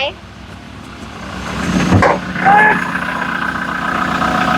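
A Toyota Revo pickup truck engine runs at a steady idle, with a short clattering burst near the middle and a faint dog bark.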